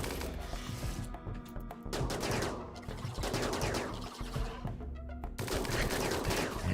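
Heavy automatic gunfire including a rapid minigun during a colony battle in RimWorld, dense continuous bursts and volleys filling the whole stretch at steady loudness.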